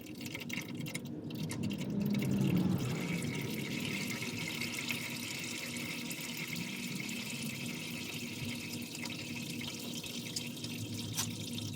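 Engine oil draining from a Dodge Cummins truck into a pan, a steady trickling, dripping liquid flow heard close up and alone throughout.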